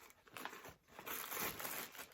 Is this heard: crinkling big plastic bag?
yes